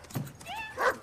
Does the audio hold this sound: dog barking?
yes